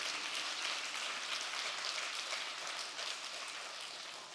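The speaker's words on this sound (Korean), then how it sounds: "이럴 때 박수 한번 쳐야 돼요." Audience applause at a church summer retreat lecture, dense sustained clapping that rolls on evenly at full volume and tapers slightly at the end, with no talk over it.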